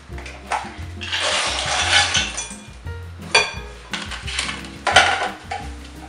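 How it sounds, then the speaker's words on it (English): Two cans of almonds are tossed into a spicy sugar paste in a metal pot, giving repeated clattering clinks and scraping knocks that sound loud and close, with no talking. "I'm just going to toss in my almonds."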